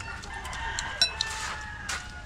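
A rooster crows nearby, a strained, drawn-out call over faint background noise, with a few brief clucks.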